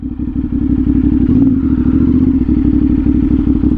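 A CFMOTO 450SS motorcycle fitted with a slip-on exhaust idles loudly up close with a rapid, throbbing exhaust pulse and a brief rev partway through.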